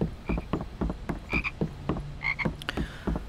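Frog croaks in the Harry Potter and the Philosopher's Stone PS2 game, a steady series of short, rhythmic calls with some brighter chirps mixed in, fairly close and with no talking.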